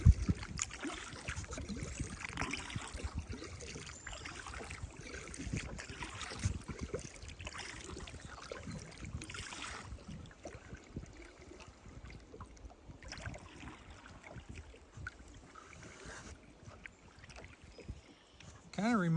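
Small fishing boat cruising along a clear, rock-bottomed swamp toward its north end, a steady motor and water hiss running throughout with low rumble, dipping slightly midway and swelling again at the very end.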